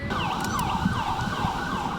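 Ambulance siren wailing steadily during a hospital evacuation ahead of Hurricane Matthew, its rising and falling tone cycling continuously and loudly over road traffic noise, with no voices.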